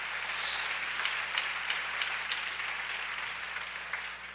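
A church congregation at Comunidad Cristiana El Camino applauds together, a dense, steady wash of many hands clapping at moderate distance that carries on evenly before thinning slightly toward the end, with no voices over it.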